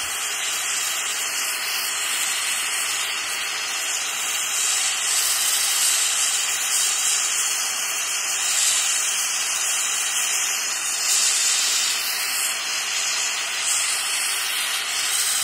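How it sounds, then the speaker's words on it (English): An oxygen-propane torch roars in a steady, loud hiss while melting about an ounce and a half of copper for casting into red clay, a continuous blast with no talk. "a torch with oxygen and propane."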